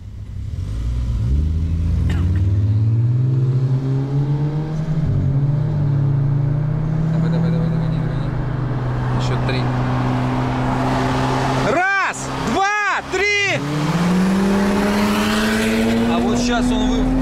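A VAZ 2109 16-valve race car screams under hard acceleration from inside the cabin, its engine pitch rising steadily through the gears with sharp drops at each shift, while people talk over the loud drone.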